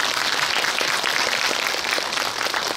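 Steady, dense applause from a cinema audience at a post-screening talk for the horror film Gonjiam, with actors present, a continuous wash of clapping at even loudness throughout.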